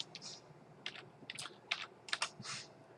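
Keys clatter on a computer keyboard in short irregular bursts of clicks with brief pauses between them, close and fairly quiet, no voices present.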